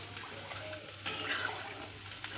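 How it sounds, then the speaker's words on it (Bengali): Water poured into a cooking pot of spiced potato curry being made into a thin gravy, a soft steady splashing stream that briefly grows louder midway, close and alone without talk. "এবার আমি এতে জল দিয়ে দেব।"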